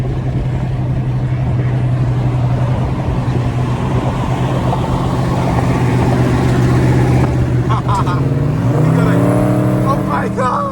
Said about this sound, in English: They got a Corvette swap Jeep and it's turbocharged